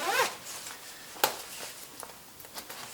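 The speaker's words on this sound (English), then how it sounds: "Simple to use zip, easy." Front zip of a Rukka Nivala Gore-Tex motorcycle jacket being opened, a quiet close ripping zipper run with a sharp tug partway through and a few small fabric rustles after.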